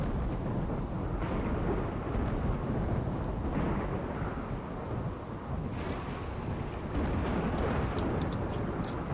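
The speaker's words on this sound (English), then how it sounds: "Lightning storm." Lightning storm in the video game RimWorld: steady heavy rain with rolling rumbles of thunder throughout, moderately loud and continuous, no voices.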